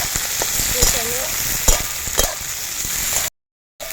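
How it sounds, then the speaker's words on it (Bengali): Onions with a little tomato are stirred while frying in a pan, a steady broadband sizzle with scraping spatula knocks, continuous and close, ending in a brief cut to silence. "পেঁয়াজগুলো দিয়ে আমি এবার একটু নাড়াচাড়া করে দিচ্ছি বন্ধুরা"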